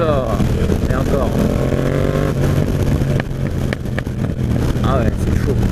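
Yamaha MT-07 Tracer motorcycle with its exhaust baffle fitted, engine rumbling loud and close and steady throughout, with revs rising and falling, while someone talks over it.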